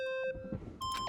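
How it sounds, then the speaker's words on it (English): Monokuma, a robotic bear in the Danganronpa video game, gives electronic beeps: a sustained tone broken by short bleeping bursts, clean and near, with no talking. "Stop that goddamn beeping and say something."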